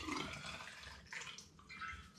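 Spirit distilled from home brew wine in an air still is poured through a funnel into a hydrometer tube, a soft, steady liquid trickle and splash running close and quiet with no talking.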